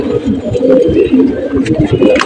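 A pigeon held close in one hand gives loud, continuous throaty cooing and rumbling, very near, with no talk over it.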